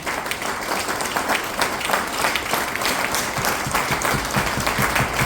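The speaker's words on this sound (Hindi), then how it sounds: "जी, एक बार जोरदार ताली।" An audience at a business training seminar breaks into loud, vigorous clapping, a thick continuous wash of applause close at hand.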